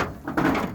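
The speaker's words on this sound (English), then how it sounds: "If you open the driver's door there," Driver's door of an old Flathead Ford opening: a short, close latch click followed by a brief low-mid creak and thud of the door swinging, alone with no talk.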